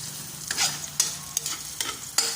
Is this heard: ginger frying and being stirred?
yes